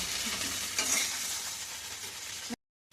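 A spatula stirs food frying in a pan, a steady loud sizzle with scraping strokes running continuously before cutting off abruptly near the end.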